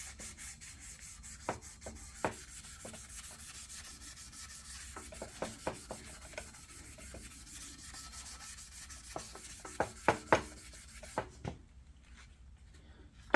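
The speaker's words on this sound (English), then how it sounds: "Just a little Scotch-Brite, very lightly on the paint." A Scotch-Brite pad scrubbed lightly over the painted front fork of a John Deere Z225 zero-turn mower, a steady close rasping rub broken by scattered sharp knocks and clicks, with no talk.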